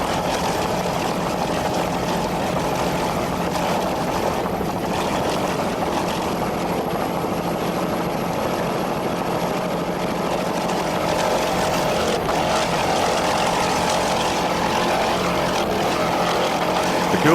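A 26-foot Scarab offshore racing boat powered by a single 600-horsepower Mercury inboard with a Black Hawk drive roars at a steady, loud, unbroken drone throughout an offshore grand prix race off Sarasota, Florida.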